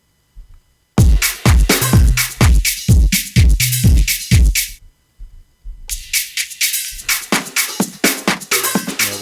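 Pad sample on an AKAI MPC One with a kill EQ effect applied, a run of punchy repeated beat hits that cut in and out with brief gaps, the low end dropping away in later passages.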